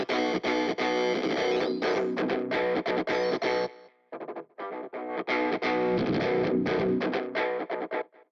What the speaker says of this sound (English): So the grid is like a bit crusher.